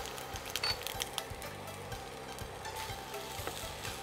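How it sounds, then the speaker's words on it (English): Garlic and vegetables sizzle steadily in a hot pan, with the scrape and clatter of stirring and a few louder pops near the start. "So now we're going to fry the garlic"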